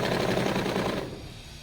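Sewing machine stitching a belt, running in a fast steady rattling burst that is close and loud, then easing off and slowing toward the end.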